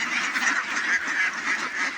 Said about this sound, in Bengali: আমার হাঁসগুলোকে দান খাওয়ার জন্য দিচ্ছি এখন সবগুলো চলে আসবে দান খাওয়ার জন্য